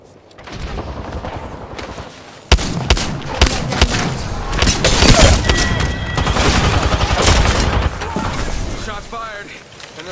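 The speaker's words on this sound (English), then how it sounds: "Shots fired, and they're hitting me" Gunfire in an Apex Legends rookie championship match, a dense spread of game shots and impacts with louder bursts after the first few seconds, mixed with effects and busy game noise under a player's voice.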